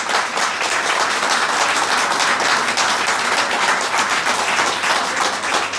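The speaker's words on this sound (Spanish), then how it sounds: "Aplaudan fuerte, Bogdan." Dense, sustained applause from a seated audience at a book launch for "La Argentina oculta" at the 46th International Book Fair, steady and loud throughout with no break.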